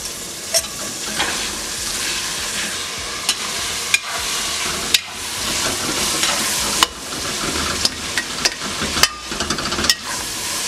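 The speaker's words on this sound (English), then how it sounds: "Then we take inside of zucchini and fry it with the meat" Scooped-out zucchini insides fry with ground meat and onion in a hot pan for stuffed vegetables, a constant close sizzle broken by repeated sharp scrapes and clanks of a utensil stirring against the pan.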